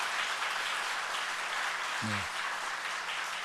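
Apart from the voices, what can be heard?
church congregation applause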